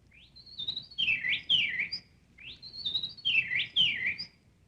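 A person imitates a bobolink's call: two bubbling, liquid bird-like phrases of rising whistles and tumbling notes, repeated with a short pause between, clear and fairly close.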